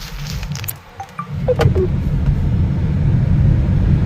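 A car drives along with a steady, close engine rumble and road drone inside the cabin; a few faint, brief higher chirps appear early on, followed by continuous low noise.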